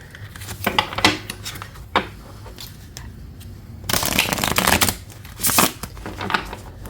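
A deck of cards being riffle-shuffled in several quick bursts, close up, with fluttering, papery rapid clicks between brief pauses.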